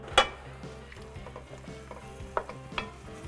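Chopped plums are stirred into a thickening red wine reduction, with a low, quiet bubbling simmer and a few soft clinks and scrapes of a spoon against the pot.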